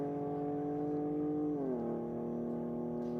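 A BMW drag racing car launches down the strip at Sydney Dragway. Its engine makes a loud, sustained droning roar, and the pitch drops sharply partway through before the drone holds steady again.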